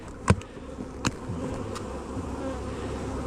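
Honey bees buzz softly around hive boxes, a faint steady hum with a couple of sharp knocks near the start.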